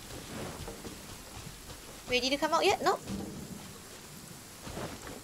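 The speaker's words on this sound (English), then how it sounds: "Ah, it's raining." Steady rain falls in the video game Genshin Impact at Starfell Lake, a constant hiss throughout, with a brief exchange of voices in the middle.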